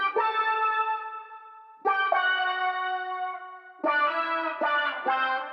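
A synthesized electric guitar lead soaked in distortion and effects plays sustained, held notes inside a hip-hop beat production. Several separate phrases start with sharp attacks, and no voices are heard.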